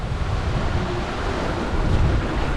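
Strong wind of 20 to 25 knots and a 1.5-metre sea swell while sailing, with loud, continuous wind buffeting across the microphone over rushing waves and no talking.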